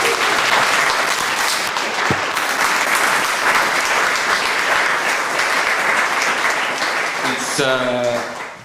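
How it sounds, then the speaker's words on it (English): An audience applauds at the end of a closing conference keynote, with sustained loud clapping that fills the room for several seconds, and a voice begins speaking as it fades. "I think we need a round of applause for everyone."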